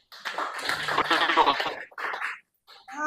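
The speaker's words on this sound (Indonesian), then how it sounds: "Berikan tepuk tangan dong." Brief audience applause at a Christian worship service, a burst of clapping of moderate loudness lasting under two seconds, followed by scattered quieter claps.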